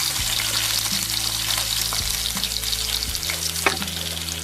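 Onions fry in oil in a pan for a Kerala-style okra mappas, with a continuous loud sizzle and occasional stirring scrapes.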